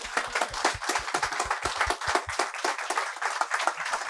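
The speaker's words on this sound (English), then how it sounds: "Can we give him another round of applause?" An evening audience at an onstage conversation with George Brown of Kool & the Gang claps steadily. The applause is dense and continuous throughout, with no voices over it.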